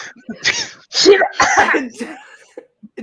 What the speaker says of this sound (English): Look, we're just coughing.